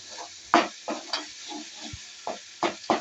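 A spatula scrapes and stirs a thick onion, coconut, clove and cinnamon masala for tomato chicken curry in a pan, with irregular, close scraping strokes over a soft sizzle and no talking.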